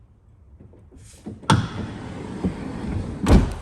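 The rear door of a 2025 Volkswagen Transporter T7 Kombi van being opened, with a soft rattle followed by a sharp latch clunk and later a second solid thud, fairly close.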